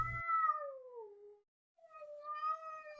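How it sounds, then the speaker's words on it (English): A cat gives two drawn-out meows, the first falling in pitch, then a short gap before the second, clear and close. "cat,"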